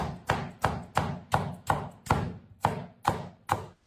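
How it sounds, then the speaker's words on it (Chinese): A kitchen knife smashes and chops cucumber into diagonal diamond pieces on a board: about ten crisp, evenly spaced chops in a brisk, regular rhythm, close and clear with nothing else heard. "用刀将黄瓜拍扁，斜刀切成小菱形块"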